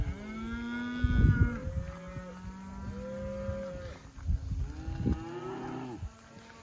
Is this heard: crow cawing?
no